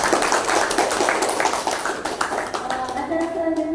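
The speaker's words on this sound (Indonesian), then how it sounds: "Beri aplaus untuk Ibu." Applause for a woman presenter at a school dissemination event at SMP Muhammadiyah 4 Surakarta: a steady patter of many hands clapping, with voices mixed in and the clapping thinning toward the end.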